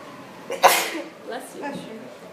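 One sharp sneeze close to the microphone, followed by quieter breathy murmurs as a voice trails off.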